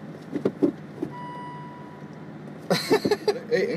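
An Aston Martin V8 Vantage reverse gear warning sounds as a steady tone through the cabin for about a second, with faint mechanical clicks before it and louder rustling and knocking afterwards.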